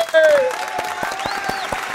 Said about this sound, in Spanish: me lo reciben con un aplauso fuerte, fuerte